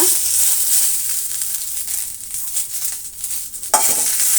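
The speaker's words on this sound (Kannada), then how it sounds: "ಈಗ ಅದೇ ಬಾಣಲಿಗೆ ನೋಡಿ ಆಯಿಲ್ ಇರುತ್ತೆ ಸ್ವಲ್ಪ ಅದರಲ್ಲೇ ನಾವು ಕರಿಬೇವು ಸೊಪ್ಪನ್ನು ಫ್ರೈ ಮಾಡ್ಕೊಳ್ಳೋಣ" Curry leaves frying in a little oil in a pan give a steady, close hiss of sizzling throughout, ending with a brief sharp clatter near the end, with no voices.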